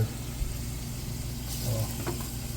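A battered walleye fillet sizzles in hot oil in a frying pan, a steady low crackle and hiss that swells slightly as the fish goes in, faint and close with no talk.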